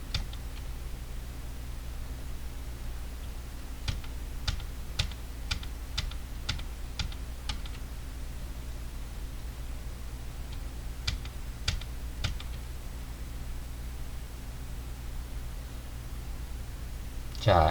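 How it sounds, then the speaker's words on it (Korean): A computer keyboard shortcut pressed over and over while duplicating layers in After Effects: a quick run of sharp, evenly spaced key clicks, a pause, then a few more, over a steady low room hum. "컨트롤 D 27번 누르세요."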